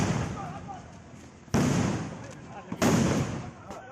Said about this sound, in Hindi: गोलियां चल रही हैं, हथगोले भी चले